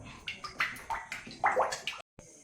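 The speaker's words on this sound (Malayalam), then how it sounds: "ചൂടായ എണ്ണ ഒഴിച്ചു കൊടുക്കുക" Heated oil poured over a chopped carrot and egg mixture for a Malabar snack, a run of short liquid splashes and gurgles close by, ending in a brief gap.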